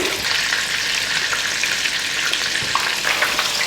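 Lamb kofta meatballs brown in hot oil, a dense continuous crackling sizzle, loud and close, with faint scattered pops and no voices.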